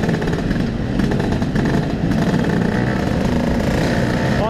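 A Vespa scooter engine runs close and loud while being ridden. The steady buzzing drone continues for the whole stretch.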